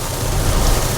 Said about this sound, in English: Got a nice hard rain going here in FSD, located here in redacted Southwest Florida.